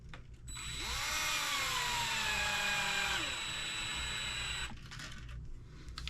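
A small power driver whirs up and runs steadily, driving screws into the roll cage of a Losi Mini B late model RC car build, then stops, leaving quiet handling noise close by without talk.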